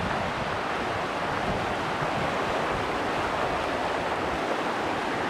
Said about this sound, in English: This is a Wyoming river.